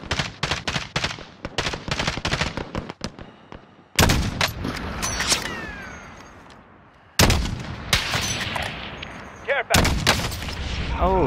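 Gunfire in a shooter video game: rapid bursts of close shots followed by several loud, echoing blasts that ring out and decay, with a quick volley near the end.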